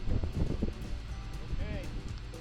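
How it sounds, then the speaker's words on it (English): Gusty outdoor wind blows at about 22 to 26 mph in an open field, a loud rumbling buffet against the microphone that is constant for the whole moment, with someone talking over it. "A little windy out here today, folks."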